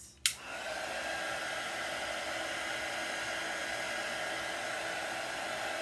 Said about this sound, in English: let me hit this with the dryer for a moment